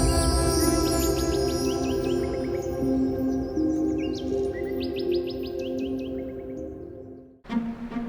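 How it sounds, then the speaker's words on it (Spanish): Migratory birds chirp steadily in a wetland wildlife refuge, many rapid repeated tweets layered over a constant droning insect-like background, fairly loud, ending in a brief rustle. "Al Perú llegan distintas aves migratorias durante todo el año."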